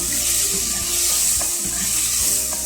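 Tomatoes and green chillies with garlic and curry leaves fry in a pan for a Kerala-style coconut fish curry, giving a steady, close hiss of sizzling with occasional scraping taps as the mixture is stirred.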